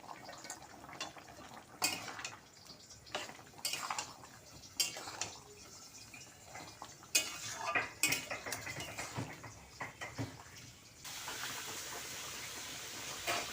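Pointed gourd curry with lentil fritters and ghee is stirred in a pan, irregular scraping and clinking of a utensil against metal with a faint background hiss, quiet and close.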